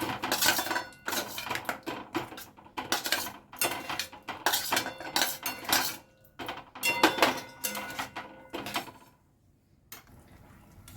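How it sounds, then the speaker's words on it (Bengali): Fried capsicum and onion tipped into a pan for a paneer dish, giving repeated close clinks and scrapes of a utensil on metal in uneven bursts, easing off near the end. "এরপর আমি এই যে ভেজে রেখেছি ক্যাপসিকাম আর পেঁয়াজ, এইগুলো সব দিয়ে দিচ্ছি।"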